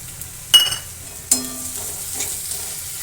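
Finely chopped green chili dropped into oil with onion for egg bhurji: two sharp bursts of sizzle and clatter over a low steady frying hiss, close by.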